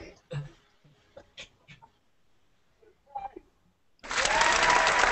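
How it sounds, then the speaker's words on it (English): Sudden burst of applause, a dense bright clap or crowd-cheer sound effect on a live sneaker chat stream, arriving loud after a few quiet, brief spoken bits. "hit him with the claps"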